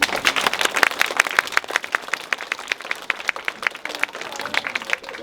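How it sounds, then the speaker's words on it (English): Audience clapping for a kindergarten group at a school spring assembly, a steady patter of many hands that stays loud and close throughout with no voices over it. "Let's give a round of applause to our kindergarten group."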